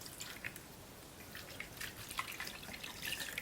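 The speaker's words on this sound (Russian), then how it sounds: "Наливаю теплой воды пол-литра." About half a litre of warm water is poured into a bowl of filling with egg yolk and sour cream for homemade shangi, heard as a light trickle with scattered close drips and splashes.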